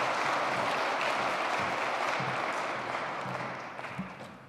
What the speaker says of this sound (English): let's give him a nice big round of applause as he brings greetings